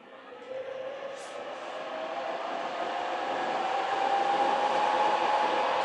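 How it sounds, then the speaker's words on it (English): A Benjamin Recharge personal air compressor runs with a steady mechanical hum and hiss. It grows gradually louder and rises slightly in pitch over several seconds, with no talking. "Compressor."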